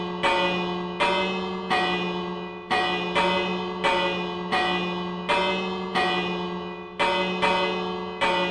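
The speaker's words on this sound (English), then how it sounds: "we got a bell to ring" A tower bell rings atop Independence Hall in the Minecraft video game, striking about nine times at a steady roughly one-second beat, each loud ring decaying into the next with a sustained low hum beneath.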